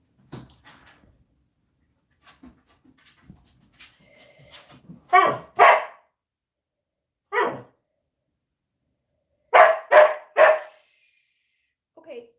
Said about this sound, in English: my dog's a little too loud for me to Ember